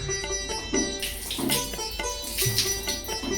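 Water splashes and pours while things are being washed, with uneven gushes and clatter close by and a noisy household background.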